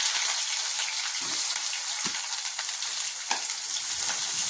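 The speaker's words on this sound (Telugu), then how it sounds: "ఉల్లిపాయ వేసుకొని ఫ్రై చేసుకుందాం" Onions frying in hot oil with mustard seeds and cumin, a loud continuous crackling sizzle close up, with a few soft knocks of stirring and no talking.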